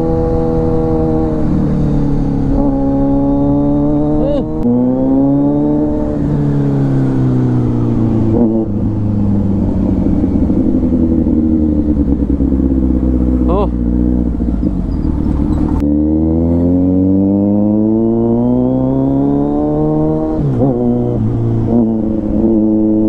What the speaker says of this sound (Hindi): लाउड एग्जॉस्ट लगा के चलाने का मजा कुछ अलग है